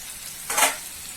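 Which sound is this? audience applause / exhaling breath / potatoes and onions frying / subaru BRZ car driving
potatoes and onions frying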